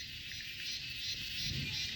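Crickets and insects chirr steadily in a dense forest at dusk, a continuous high shimmering drone with low rustling beneath, moderately quiet and unbroken.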